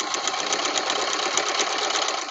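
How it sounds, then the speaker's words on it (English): Sewing machine stitching closed the open edge of a cotton fabric face mask, a fast, steady, close mechanical whirring with a rapid needle rhythm and no break. "we're going to now sew it closed"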